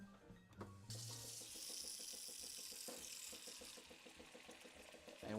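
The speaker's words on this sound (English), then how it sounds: "Water." Water runs from a kitchen tap while dried beans are being prepared, a steady hiss that starts abruptly after a brief clatter and continues under faint rhythmic background music before tapering off.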